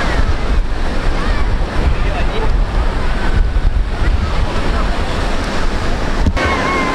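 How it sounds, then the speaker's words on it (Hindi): Strong sea waves surge against the Mumbai shore in a constant loud roar of surf, with heavy wind buffeting the microphone and no clear pauses between the waves. "अभी पानी का फोर्स बहुत ज़्यादा है, जो तरंगे उठ रही हैं वेव उठ रही है बहुत ज़्यादा है।"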